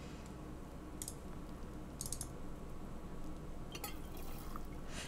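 Water spills and drips in the video game The Silent Age, a faint bed of running liquid broken by a few brief, sharp splashy ticks scattered through the scene.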